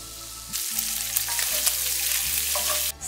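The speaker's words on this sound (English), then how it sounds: "We sizzle the guanciale just as it is." Guanciale sizzles and crackles steadily in a hot pan, a dense frying hiss with occasional stirring scrapes, close and fairly quiet, with no talking.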